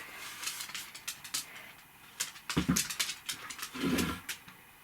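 Dogs on a bed give low growls and whimpers mixed with rustling and scuffling, close and moderately loud, in uneven bursts.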